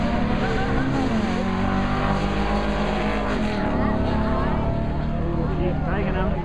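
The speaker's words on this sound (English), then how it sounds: "Big V8 against a little rotary." Engines of a Chevrolet Camaro V8 and a Mazda RX7 rotary roar at a drag strip, a dense, loud continuous drone with shifting pitch, heard from nearby with wind noise.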